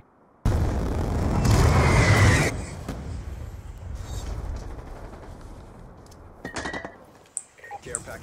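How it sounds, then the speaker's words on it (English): Hellstorm missile strike in Black Ops 2 on PS3: a sudden heavy explosive blast swells into a roaring rumble for a couple of seconds, then decays into lingering debris noise with a few scattered smaller bursts and pops. "Hellstorm missile inbound."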